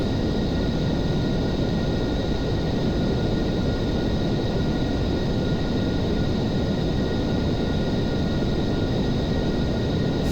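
Steady, loud roar of a Boeing 747's jet engines in flight in the Aerofly FS 4 flight simulator, a constant broadband rumble with a faint high whine, unbroken and with no talk.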